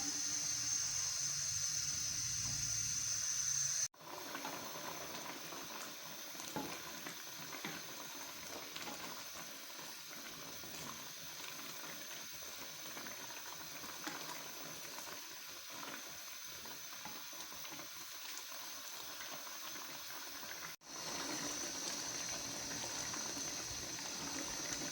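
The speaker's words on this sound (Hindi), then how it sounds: "अब हम इन गाजरों को दूध में अच्छे से पका लेंगे।" Carrots cooking in milk in a pot for gajar ka halwa, a steady bubbling, sizzling simmer heard close and continuous, with brief cuts but no talking.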